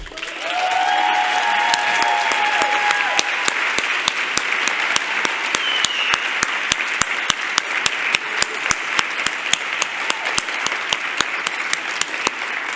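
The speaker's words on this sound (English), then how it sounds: "So can we all give a round of applause to Rachel Griego?" Applause from a summit audience builds into a full wash of clapping, then thins into scattered sharp individual claps that continue rhythmically to the end.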